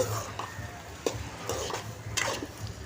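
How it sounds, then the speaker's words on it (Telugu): A spoon stirs mung dal and drumstick curry in a pan, making soft scraping strokes and light clinks over a faint sizzle. The sound is quiet and close. "ఇలా బాగా కలుపుకుంటూ కాసేపు మసాలా మొత్తము పట్టే విధంగా కలుపుకోవాలండి"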